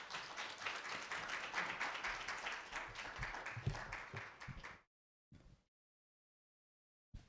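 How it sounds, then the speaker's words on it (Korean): A church congregation at a Korean Baptist Sunday worship service applauds to welcome a pastor, steady clapping for almost five seconds that stops abruptly, followed by a few faint claps after brief silence. "우리 다 같이 박수로 환영하겠습니다."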